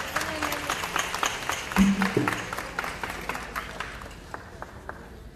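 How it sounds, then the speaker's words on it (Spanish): Modest audience applause for a children's dance group at a Contla carnival performance, scattered clapping with some crowd murmur that thins out toward the end, fairly distant and soft. "Un fuerte aplauso para ellos."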